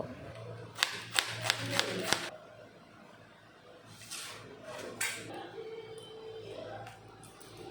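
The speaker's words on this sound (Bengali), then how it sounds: "এখন আমি পেঁয়াজ কুচি কুচি করে কেটে নেব।" A knife chops an onion finely on a board, beginning with a quick run of about five sharp, close taps and followed by a few softer, scattered knocks and scrapes in a quiet kitchen.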